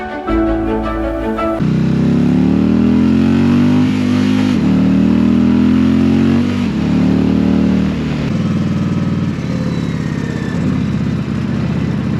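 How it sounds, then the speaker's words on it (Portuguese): An Indian Challenger Dark Horse 2022 motorcycle engine revs loudly close by, a rising, falling throttle drone with shifting pitch after a brief rattly start, and no voices. "hoje estamos aqui a bordo de uma Indian Dark Horse Challenger"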